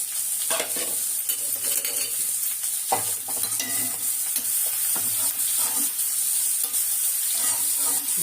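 Finely chopped cabbage, cooked without added water, sizzles steadily in a hot pan, with frequent scraping and stirring strokes on top.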